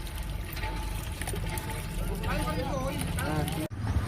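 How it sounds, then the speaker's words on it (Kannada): Water gushes steadily from a village hand pump at a borewell, a close splashing pour that continues beneath a voice talking over it. "ಇದು ನೋಡ್ರಿ ಹ್ಯಾಂಡ್ ಪಂಪ್ಲಿ ನೀರು"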